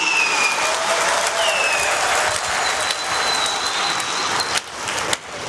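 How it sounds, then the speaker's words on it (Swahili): Members at a Young Africans club general meeting applaud at length, a dense wash of clapping from a large crowd filling a hall, with a few louder claps near the end. "Tujipigie makofi kwa wote tunaosema ndio."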